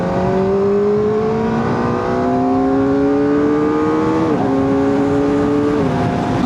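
A 2025 Kawasaki ZX-4RR motorcycle accelerates hard in third gear, its high-revving engine whine climbing steadily in pitch with two brief dips, loud and continuous with no talking.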